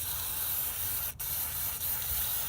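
Spray cleaner aimed at the power steering pump area on a Honda Odyssey after new O-rings go in: a loud, close, steady aerosol hiss with one brief break midway and a slight dip later, no talking.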